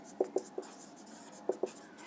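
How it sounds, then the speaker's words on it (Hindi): Chalk or marker writing on a board makes a handful of short, distinct taps and strokes in two quick clusters, close and fairly soft over a quiet room. "दोबारा लिखते हैं"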